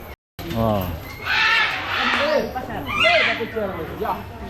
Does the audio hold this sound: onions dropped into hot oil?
no